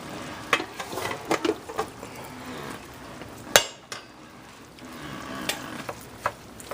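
Cooked rice is stirred in a pan with kimchi chicken, with a soft sizzle of frying under irregular scrapes and knocks of a utensil against the pan, close and fairly quiet.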